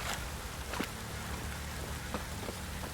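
Steady rain pours down in a constant hiss in the video game The Witcher 3, with occasional sharper drips and splashes standing out against the dense downpour.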